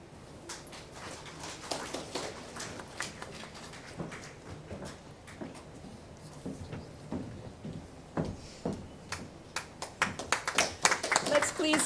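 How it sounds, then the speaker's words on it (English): Scattered hand clapping at an inaugural mediation event, starting sparse and irregular under talking voices, then building into denser, louder applause toward the end. "Let's give them all a warm round of applause"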